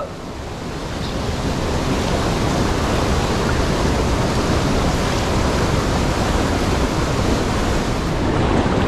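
Strong river current rushes loudly and continuously, a dense broadband roar of fast-moving water near large swimming pools on a river, steady throughout with no voices.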